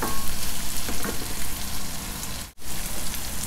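Chopped onion fries in a pan for veg fried rice, giving a dense, steady sizzle close to the listener. A short break comes near the end, then the sizzling picks up again, with no talk.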